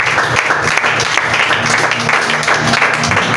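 A church congregation applauds and cheers during a worship service, a steady dense wash of clapping mixed with crowd voices and faint tonal music underneath, continuing evenly throughout.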